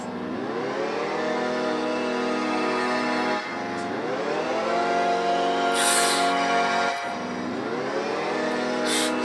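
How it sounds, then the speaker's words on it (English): Upper Octave piano patch run through the Tape Piano 2 plugin, repeating sustained chords with a slow pitch-bending warble, three phrases each restarting with a fresh attack, steady and fairly loud with no voices. "the second sound that I use Tape Piano 2 on is right here, and this one is called Upper Octave"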